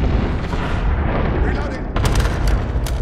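Cluster strike in Call of Duty: Modern Warfare, a heavy rumbling barrage of overlapping booms, then sharper cracking blasts near the end, loud and continuous, with some voice beneath.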